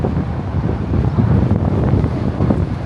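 Strong, steady wind buffeting the microphone, a continuous low rumbling roar with gusty swells and no voices.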